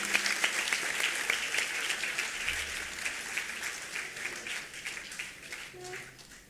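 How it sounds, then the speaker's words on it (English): A conference audience at a hospitality technology event breaks into sustained applause, dense clapping filling the room at moderate distance and slowly tapering toward the end. "So let's have a large round of applause for this team once again."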